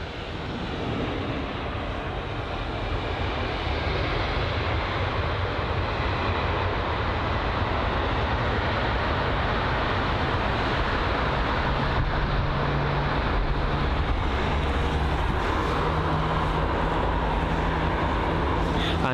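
Airbus A321neo passing at London Heathrow, a steady broadband jet roar that holds loud and even throughout, swelling slightly toward the end, with a faint voice talking underneath.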